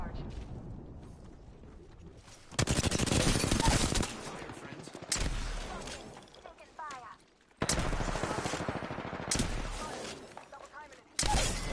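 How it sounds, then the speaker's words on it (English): Rapid bursts of automatic gunfire from several weapons at once in the Apex Legends video game, loud and dense, separated by brief quieter gaps, with voices talking throughout. "everybody shooting me at the same time"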